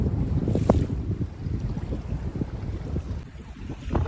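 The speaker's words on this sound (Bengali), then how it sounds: "প্রচুর হাওয়া হচ্ছে তো" Strong wind buffets the microphone with a constant low roar and gusts, over faint water and fishing-boat noise on a river; no voices.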